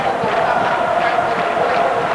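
A stadium crowd at a football match urges on the home team with a steady, loud roar of cheering and chanting, sustained without a break.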